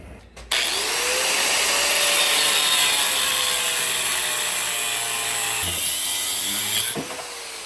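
A metal bull bar's support arms being cut down for a 2025 Nissan Frontier Pro-4X, a steady, loud grinding or sawing whine that runs for about six seconds, then drops off and briefly restarts.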